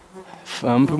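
Flies buzzing close by outdoors at night, a brief whine swelling into a loud, steady hum with clear tonal harmonics over the last half second.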